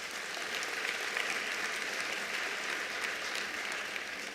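An audience applauds at a ministerial announcement of national exam results, a steady dense wash of clapping from many hands that holds evenly throughout without voices.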